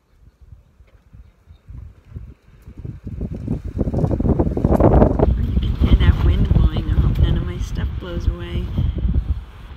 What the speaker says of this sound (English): It's really, really windy here at the campsite.